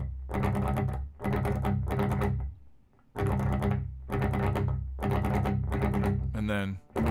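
An electric guitar with heavy distortion strums the chords of a song, played as loud, sustained chord blocks with brief breaks between them and a short scrape near the end.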